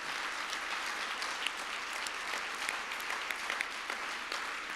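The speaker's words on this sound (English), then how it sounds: "Yes, with flowers and an applause." Sustained audience applause at a 2019 honorary doctorate ceremony, a steady dense patter of many hands clapping from a large hall crowd, with no talking over it.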